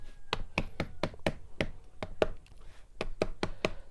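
Bhakri dough edges patted by hand to thin them, a quick series of about fourteen sharp, close soft slaps in an uneven rhythm, alone with no talk.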